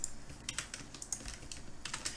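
Quick keystrokes on a computer keyboard entering a shortcut while working in Inkscape, several crisp clicks in an uneven rhythm, close and fairly quiet, with no voices.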